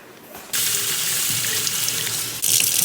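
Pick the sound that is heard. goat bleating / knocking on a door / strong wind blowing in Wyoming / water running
water running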